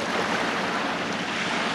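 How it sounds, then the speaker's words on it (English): Steady roar of ocean waves and surf, loud and continuous with broad wash and no other sounds. "The waves are getting louder."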